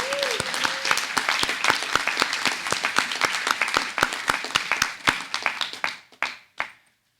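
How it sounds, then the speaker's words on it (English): Audience applause for a production team at a live storytelling event, a dense burst of clapping that carries on steadily before thinning to a few scattered claps and fading out; a brief voice is heard near the start. "Can we have all of our production team members stand for a round of applause"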